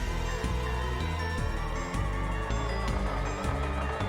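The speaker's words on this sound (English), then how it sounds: "Those were gunshots." Gunfire in the visual novel game Steins;Gate 0, repeated heavy booms at a fairly regular pace over a dense, loud musical and effects backdrop, suggesting a war scene.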